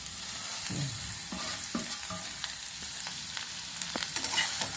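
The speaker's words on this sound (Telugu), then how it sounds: "ఈ దొండకాయ ముక్కలు ఇందులో వేస్తున్నాను. కొంచెం వేగితే చాలు, కొంచెం వేగితే తీసేస్తాను." Ivy gourd pieces frying in hot oil in a pan, giving a steady close sizzle with a few soft stirring scrapes and light taps scattered through, with no voices.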